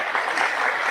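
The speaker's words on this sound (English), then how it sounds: "You're welcome to clap for him as well." Audience applause for a candidate at a presidential forum on the Navajo Nation, a steady dense wash of clapping filling the whole moment at even loudness.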